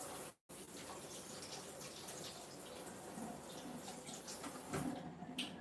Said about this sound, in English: Let me wash this spoon again.